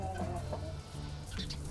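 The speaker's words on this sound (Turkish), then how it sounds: "Bir tane ürkek bressemiz var." Bresse chickens cluck softly in a backyard coop, a few faint low clucks over a quiet, murky background.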